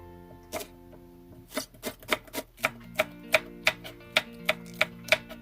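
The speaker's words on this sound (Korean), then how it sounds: "대파와 청양고추는 쫑쫑 썰어주세요" A knife chops green onion and cheongyang chili peppers on a cutting board, a close, steady run of about a dozen crisp taps that grow more regular and evenly spaced, over soft background music.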